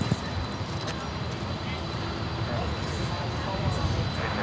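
An airliner departing Sydney Airport for Dallas drones as a steady distant engine roar beneath people talking.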